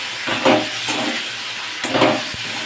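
Spice paste with tomato and chili powder sizzles steadily in a pan while being stirred, a continuous close hiss broken by a few soft scraping strokes.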